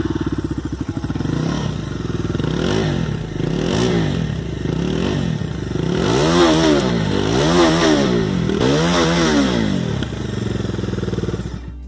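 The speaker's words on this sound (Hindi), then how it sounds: "और फ्रेंड्स अब इसका जो एग्जॉस्ट नोट है वो एक बार सुन लेते हैं।" A Bajaj Dominar 250 BS6 motorcycle idles with a loud, close exhaust rumble, broken by a series of repeated throttle blips that rise and fall in a steady rhythm, each rev swelling and dropping back to idle.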